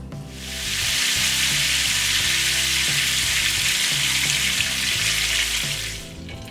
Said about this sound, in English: once you have it already toasted on one side, you want to turn it around and let it cook on the other side